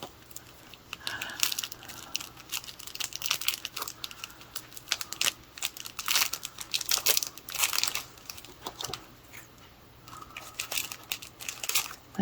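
A small pouch of jewelry-making and beading supplies is opened, giving a run of crinkling, crackling plastic rustles and light clicks, close and fairly quiet with no talking.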